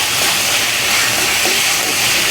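Chopped tomatoes go into frying onions in a pan for a ridge gourd and toor dal kootu, giving a steady, close sizzle and hiss that carries on throughout, with no talking.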